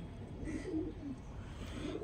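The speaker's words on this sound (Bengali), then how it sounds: "এই দেশি পায়রা একটা জোড়া আছে।" A pair of local desi pigeons coo softly nearby, giving low rolling murmurs that rise and fall over two seconds against quiet background hum.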